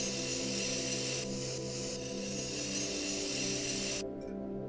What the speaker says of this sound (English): we're just going to cut up the plaster